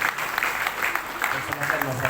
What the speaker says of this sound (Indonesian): Sekali lagi beri tepukan kepada suami istri ini